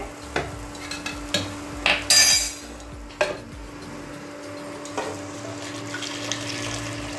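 Hot milk poured into sabudana roasting in a pan, giving a soft continuous sizzle and bubbling with a few stirring knocks and scrapes, close and steady without talk.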